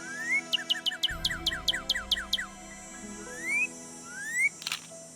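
Birdsong in the Nancy Drew game Ghost Dogs of Moon Lake: a quick series of rising chirps and whistles repeating in a steady run, then a few scattered calls, ending with a sharp camera shutter click.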